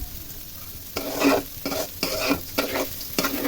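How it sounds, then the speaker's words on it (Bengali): Rice frying in a kadai while being stirred steadily, with repeated bursts of scraping and sizzling every half second or so, close and fairly loud, no voices. "চালটাকে খুব সুন্দর করে ভেজে নিতে হবে একদম যাতে নন স্টিকি থাকে"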